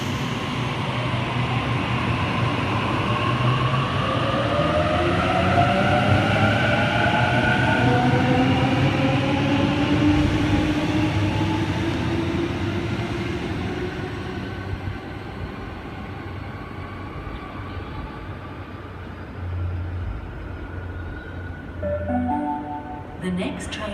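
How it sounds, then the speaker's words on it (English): A Sydney train pulls out from platform 1 at Edmondson Park station, its rising electric motor whine and rumble loud at first, then fading. A public address announcement and a voice come through near the end. "A39 now departing platform 1, Schofield service."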